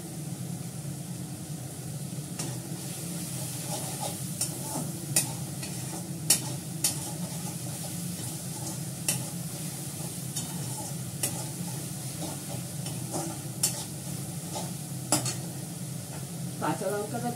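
Food stirred in a kadai as it fries and starts releasing oil, a continuous close sizzle with intermittent sharp spatula scrapes and taps against the pan.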